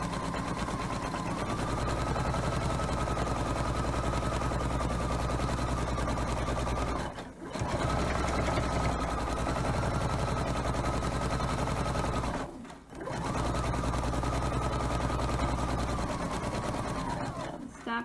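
A sewing machine stitches a memory pillow made from a shirt in steady continuous bursts, stopping briefly twice as the needle stays down and the fabric is turned before stitching resumes down the next side.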